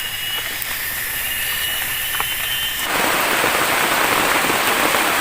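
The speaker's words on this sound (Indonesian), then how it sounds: "Hujan terus guys, nggak berhenti-berhenti. Nambah deras hujannya." Steady rain falls close by, then abruptly grows into a heavier, denser downpour partway through.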